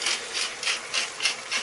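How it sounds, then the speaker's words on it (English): A hand grinder cracks salt and black pepper over a minced lamb keema curry, making close, steady rasping grinds in about six even twists. "I'm going to grind some more salt into it."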